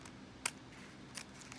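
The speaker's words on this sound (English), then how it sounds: "We're gonna take our scissors and we're just gonna make a little cut here." Two quick, crisp snips of scissors, faint and close, with a quiet room in between.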